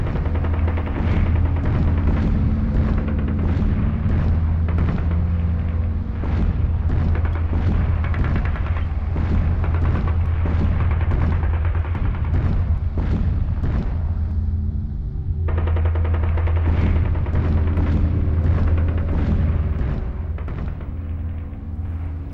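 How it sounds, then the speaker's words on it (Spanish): Dense rumbling booms and sharp blasts of artillery cannon fire during the Spanish Civil War siege of Toledo, continuous and loud with overlapping impacts and a steady low drone underneath. "Ya se divisan desde el Alcázar las explosiones de los cañones de los nacionales."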